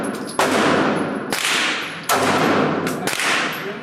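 Springfield Hellcat pistol fired at an outdoor range from 25 yards, a few loud, sharp reports spaced about a second apart, each with a long ringing decay that fills the gaps between shots.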